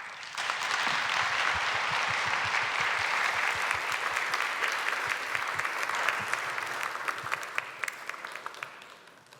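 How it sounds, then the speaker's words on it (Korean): An audience at a seminar webinar applauds in a dense, sustained burst of many hands that holds steady for several seconds before gradually tapering off, with no talk over it. "여러분 각자 계신 장소에서 박수 부탁드립니다."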